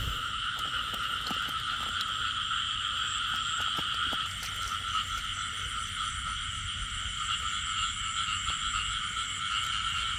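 Frogs calling after heavy rain in the Mekong Delta countryside, a steady chorus of layered trilling croaks that runs unbroken throughout, with faint scattered clicks and rustles underneath.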